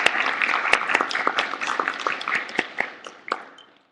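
An audience claps for the panelists at a forum, a burst of loose, uneven handclaps that thins out and fades to silence within a few seconds.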